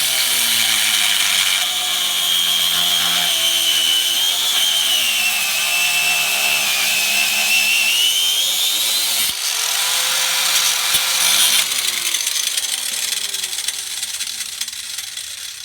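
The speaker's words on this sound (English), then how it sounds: "I'm just going to get the wheel grinder and cut that and see how that goes." Angle wheel grinder cutting through the rubber boot on the track bar of a 1996 Jeep Cherokee XJ, a steady close, loud whine that holds its pitch, sags briefly near the middle and fades toward the end.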